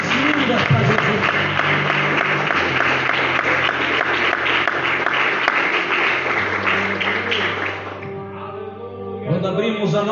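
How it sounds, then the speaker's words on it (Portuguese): A church congregation applauds together during a worship service, a dense steady wash of clapping that fills the room, with musical tones sustained underneath and the applause thinning toward the end. "Só quem orou com fé bate a salva de palmas mais linda para Jesus."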